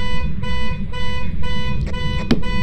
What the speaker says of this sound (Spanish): Yo no voy a apagar la, la bocina del auto.